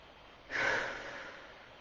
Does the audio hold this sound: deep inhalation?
yes